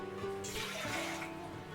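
Water poured into a vessel for rice flour dough: a steady close splashing pour that swells in the middle and stays constant, fairly faint, with no voices.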